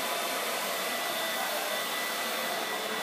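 A hair dryer blows steadily through a blowout of curly, coarse, frizzy hair, giving an unbroken, loud, close whooshing roar with no talk.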